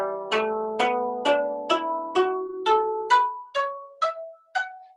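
A 13-stringed zither in the Tang-derived tradition is plucked string by string in hyojo tuning, giving about ten separate bright notes that each ring and decay, played slowly and evenly.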